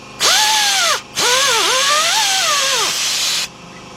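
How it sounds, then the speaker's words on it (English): A power surface grinder whines at high pitch against the gasket surface of a 2006 Kia Sportage 2.7 engine block during a rebuild. Two loud bursts of grinding are heard close up, with the pitch rising and falling, and no one talks. "Now, we're going to get our surface grinder."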